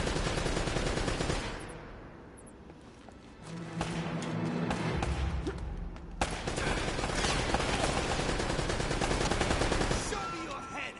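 Rapid gunfire and scattered single shots from an Uncharted firefight, with a turret firing among the bursts, loud and dense through most of the stretch and easing briefly in the middle.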